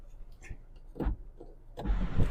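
Button clicks and a brief electric motor whir as the glass panel of the power sunroof opens in a 2024 Hyundai Elantra Limited, with soft cabin sounds in between, quiet and close.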